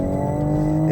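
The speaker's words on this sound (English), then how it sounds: "It's just that visceral wail from the engine." A 2020 Toyota GR Supra (A90) engine wails at high revs, a loud, steady, droning tone with layered harmonics and no voices.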